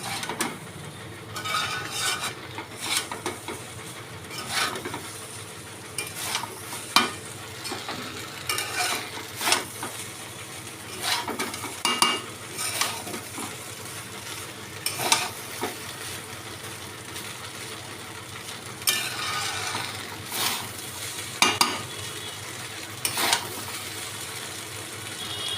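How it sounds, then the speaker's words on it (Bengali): A dish is stirred in a pan after rose water and kewra water go in, with repeated scraping strokes of a utensil against metal over a soft, continuous sizzle, loud and close, no voices. "আর একটুখানি ভালো করে নাড়িয়ে নেব।"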